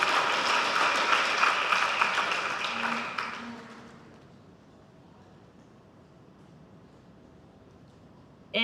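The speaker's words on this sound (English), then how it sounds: "anybody who's agreeing with peace should applaud, and you can applaud again" An assembly audience claps loudly for about three seconds, then the applause fades out into a quiet room tone. A brief sharp sound comes at the very end.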